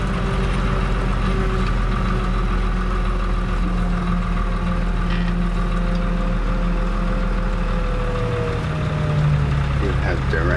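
A Fiat 110-90 tractor engine idles at a steady low rumble for the whole clip, with a dense mechanical drone that stays even and loud throughout.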